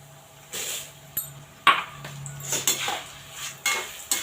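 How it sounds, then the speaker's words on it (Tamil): Roasted peanuts tipped into a pan of frying lentils and curry leaves for temple-style puliyodharai, giving scattered clinks, taps and scrapes against the metal pan, moderately close, with short bursts separated by quiet gaps. "இந்த டைமில் நம்ம வந்து வேர்க்கடலையை போடலாம்"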